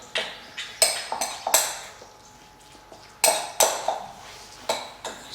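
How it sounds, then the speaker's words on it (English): A spoon clinks and scrapes repeatedly against a bowl while mixing Welsh rarebit mixture with Yorkshire ale, making a series of sharp, close metallic taps in an irregular rhythm. "Mix it all up."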